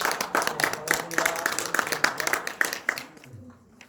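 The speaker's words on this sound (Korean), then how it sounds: "박수로 맞아주시기 바랍니다." Audience members at a garlic farming education session clap in a quick, lively burst to welcome the presenter, and the clapping fades out after about three seconds.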